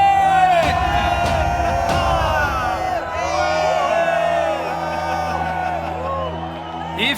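A boxing match crowd cheers and shouts as a boxer enters the ring, loud whoops and yells layered over music and an announcer's voice, with a brief lull midway.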